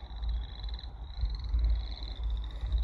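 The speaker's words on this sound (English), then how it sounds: "Do you hear the froggy" A frog croaks near a highway, with a steady high-pitched call running over a low rumble of passing traffic.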